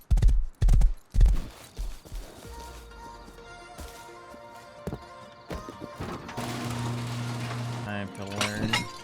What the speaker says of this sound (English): I decide to take this horse and head on out